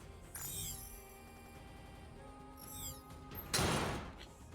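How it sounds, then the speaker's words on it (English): A heavy door in the video game Nikke: creaking mechanical movement with whirring tones, ending in a loud, noisy closing thud near the end of the short passage. "A2 and P12 frantically dash into the corridor and close the door behind them."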